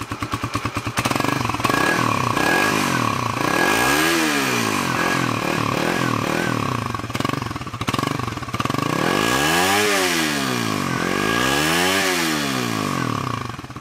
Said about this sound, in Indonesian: ya suaranya seperti itu ya karena knalpot masih standar